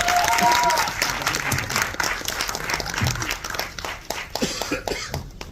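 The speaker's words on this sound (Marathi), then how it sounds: "एकदा जोरदार टाळ्या" An audience breaks into loud, sustained applause at a Marathi event, dense clapping that stays strong for several seconds before thinning slightly, with a voice briefly heard over it at the start.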